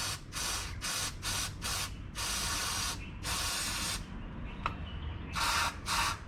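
Repeated bursts of homemade cleaner sprayed onto a car's throttle body, about eight short and long hisses in an uneven rhythm with brief gaps, close and loud, no talking.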